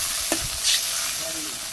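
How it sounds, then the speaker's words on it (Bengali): Fish frying in hot oil in a village kitchen, a steady broadband sizzle with a few brief louder spits and stirring scrapes, close and continuous with no voices. "তো মাছটা আমি আগে ভাজি করে নিচ্ছি।"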